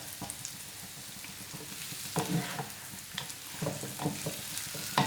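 Chicken frying in coconut oil on a flat tawa, a steady close sizzle with scraping stir strokes and small crackles throughout, no talking.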